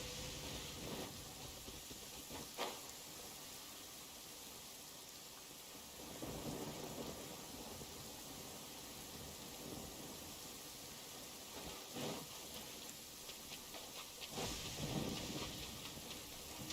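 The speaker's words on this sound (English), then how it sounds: "Quite a downpour." Heavy rain pours steadily in a Genshin Impact storm, with several deep rolls of thunder breaking through the downpour at intervals, with no voices.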